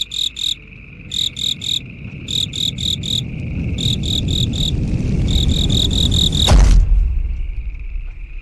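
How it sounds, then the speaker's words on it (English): Cricket chirps as a sound effect in short rhythmic bursts of rapid, high trills, repeated several times over a low background rumble before a sudden loud thump cuts them off. "crickets."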